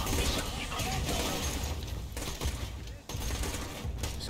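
Dense, rattling bursts of gunfire and mechanical clatter in Borderlands 2, a busy, noisy mix, with voices talking over it.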